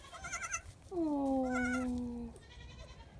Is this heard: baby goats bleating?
yes